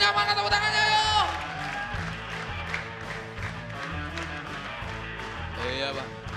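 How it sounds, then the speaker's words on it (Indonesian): Live comedy-show audience claps steadily beneath upbeat music while a host talks over it, the applause a continuous mid-level patter for several seconds. "Tepuk tangannya, mana tepuk tangannya"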